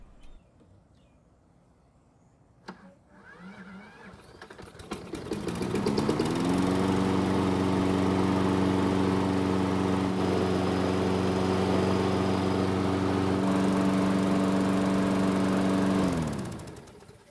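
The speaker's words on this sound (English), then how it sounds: "It's now finally time to see if this mower will start without using the pull rope." A Craftsman lawn mower fitted with a key start and a cheap substitute battery cranks briefly, then fires up into a loud, steady engine roar that holds for about ten seconds before cutting off, with faint birdsong behind it.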